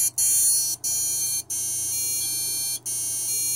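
A steady high-pitched electronic whine with repeated brief dropouts, like small motors emitting a continuous beep tone, close and fairly loud; racing quadcopter motors after the drone was submerged in a pond.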